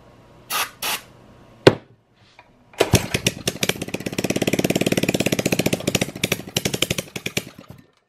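A Baja 97cc mini bike engine gives a few short cranking bursts, then catches and runs with a rough, rapid pulsing idle for several seconds before dropping off. It sounds close and fairly loud, with no talking.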